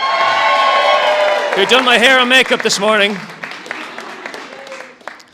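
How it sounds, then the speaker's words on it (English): Wedding guests at a castle venue break into cheers, whoops and clapping during a speech, a loud burst that swells over sustained vocal shouts and then fades into scattered claps while the speaker talks. "I'd like to give a big round of applause"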